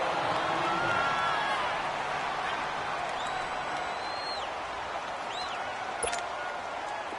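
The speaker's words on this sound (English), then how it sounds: "the crowd getting into it as we come up on a big third down" Stadium crowd noise from a football video game, a steady broad roar of cheering that swells at the start and holds at a moderate level, with faint whistle-like tones and a brief sharp sound near the end.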